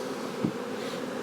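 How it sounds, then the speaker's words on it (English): Honey bees hum as a dense, steady drone from a crowded cluster on a hive wall. The close buzz stays even and continuous for just over a second. "You got a bunch of bees on the wall."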